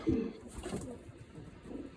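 Pigeons softly cooing in a loft where young squabs have recently fledged, a few low murmuring coos near and faint against quiet background.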